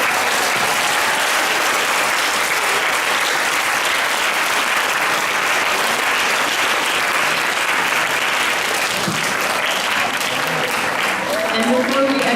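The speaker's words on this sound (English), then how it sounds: "how about one final round of applause for the marvelous young musicians on stage" Sustained, dense applause from a concert audience fills the hall for young band and choir musicians at a middle school concert, steady and loud throughout with a few faint voices near the end.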